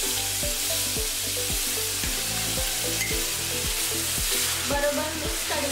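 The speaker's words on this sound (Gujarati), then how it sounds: "હવે ડુંગળીની પેસ્ટ એડ કરીશું." Onion paste frying in a pan, a loud steady sizzle with a rhythmic low ticking or thumping throughout and a faint scrape near the end.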